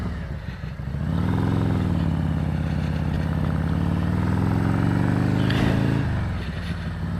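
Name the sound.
big-wheel bagger motorcycle running on a dyno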